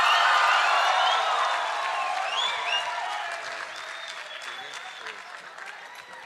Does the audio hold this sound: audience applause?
yes